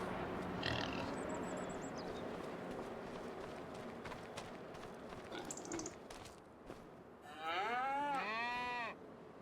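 Cattle in a farm homestead video game moo repeatedly, a few short calls early and a long drawn-out moo near the end, over a busy background of ambient farm noise and clip-clopping.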